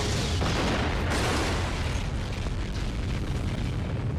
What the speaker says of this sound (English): John has come too far to stop now, so he lets the explosion happen